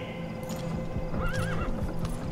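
A horse whinnies in Metal Gear Solid V with a wavering, rising-falling neigh, while steady clip-clop hooves and snorting run underneath throughout.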